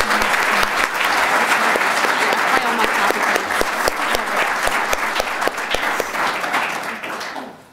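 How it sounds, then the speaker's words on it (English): A live audience applauds a discussion panel at a community event, dense sustained clapping filling the room for several seconds before tapering off at the end. "Give another round of applause for our wonderful panel."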